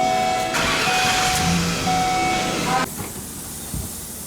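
A car engine runs with a loud, hissing roar up close, then abruptly drops to a quieter, steady idle partway through.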